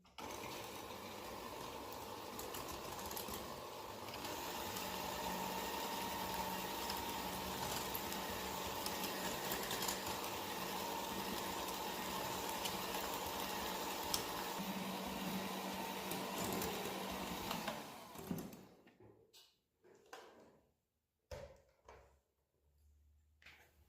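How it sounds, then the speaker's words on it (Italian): An electric mixer at medium speed whipping eggs with sugar, a steady whirring hum that runs for most of the stretch, then stops, followed by a few clicks and clinks. "Uso il frullatore a velocità media e lavoro per 3-4 minuti."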